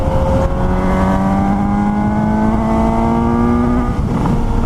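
A 2018 Suzuki GSX-S 750 motorcycle engine pulls hard while riding, its loud, close drone climbing steadily in pitch for several seconds before easing off near the end.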